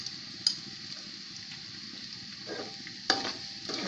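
Red chilli powder, spices and kalonji seeds fry in a pan, giving a steady soft sizzle with light stirring scrapes and a few brief sharper crackles, close and fairly quiet, with no talking.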